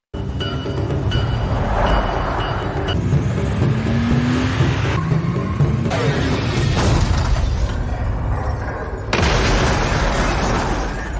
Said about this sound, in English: Luckily, Elyas managed to overturn the car.